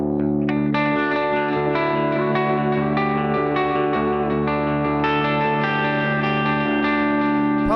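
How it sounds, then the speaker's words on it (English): An electric guitar plays sustained, distorted chords through a pedalboard with the Strymon Iridium room reverb on, adding chorus and echo. The chords change every second or so, loud and close, with no voice. "The room reverb from the Strymon Iridium, which I have about between 9 and 12 when I do have it on"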